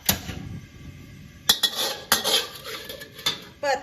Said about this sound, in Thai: แล้วก็คนให้ส่วนผสมทุกอย่างเข้ากันนะคะ